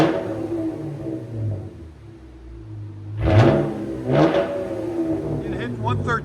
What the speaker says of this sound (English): Those DYNOMAX and X pipes make it sound so much better